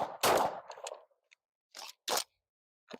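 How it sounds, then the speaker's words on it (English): Slow-fire shots from a DR920 rifle fitted with a Steiner MPS optic: a few sharp, separated reports spaced apart with quiet gaps between them, with a brief metallic clatter after the first shot. "Let's do some slow fire. I want to work on some recoil control first."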